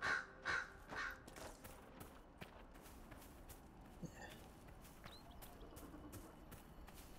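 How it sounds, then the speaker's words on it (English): Crow in Dragon Age: Inquisition: three loud harsh caws open in quick succession, then give way to a quiet outdoor ambience with faint footsteps and scattered small clicks. "Fucking crow."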